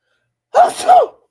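A single sneeze bursts out close and loud in two quick voiced parts, with silence before it.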